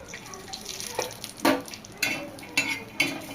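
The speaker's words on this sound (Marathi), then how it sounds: "तर खोबऱ्याचा रंग बदलूपर्यंत आपल्याला भाजून घ्यायचंय" Grated coconut roasting in a little oil in a pan, a soft continuous sizzle broken by four or five distinct scraping stir strokes at a steady pace, heard close with no talk.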